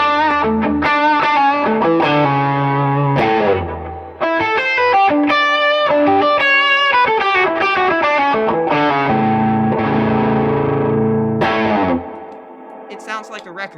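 Electric guitar plays a melodic solo line with sustained notes, washed in lush 70s-style plate reverb that lingers after each phrase and rings out at the end.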